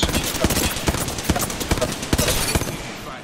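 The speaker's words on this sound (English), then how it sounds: "shot at an enemy" Rapid bursts of gunfire from Apex Legends in a dark cave, sharp cracking shots clustered in quick, uneven volleys over a dense, noisy game backdrop, loud and close throughout.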